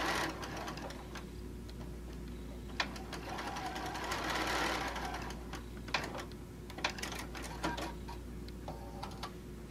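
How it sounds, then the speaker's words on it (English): A sewing machine joins quilt fabric pieces with a rapid, steady chattering stitch, close up, with a few sharp clicks and short pauses along the way. "we're going to go ahead and sew these together"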